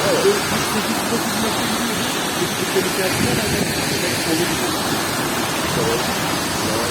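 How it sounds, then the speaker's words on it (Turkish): Tortum waterfall, one of Türkiye's highest, sends a steady broadband roar of rushing, spraying water that holds constant throughout, close and loud. "Türkiye'nin en yüksek şelalarından bir tanesi"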